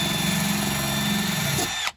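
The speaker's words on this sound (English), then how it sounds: "This drill's good." A cordless drill whirs at a steady high pitch for nearly two seconds, then cuts off abruptly.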